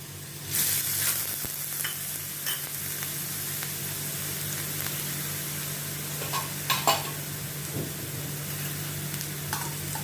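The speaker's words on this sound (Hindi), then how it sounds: "गैस का फ्लेम मैंने फुल कर दिया है। इसमें मैं ये हाफ अनियन डालती हूँ, ग्रेट किया हुआ।" Grated onion frying in a pan over a full gas flame, a constant close sizzle with a low steady hum beneath and a few clinks and scrapes of stirring.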